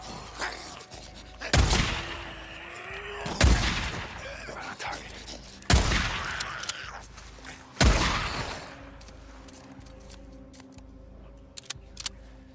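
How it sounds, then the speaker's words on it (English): Four loud, sharp shotgun blasts fire in Days Gone, spaced roughly two seconds apart, each with a short booming tail, followed by quieter game ambience. "Use my shotgun here."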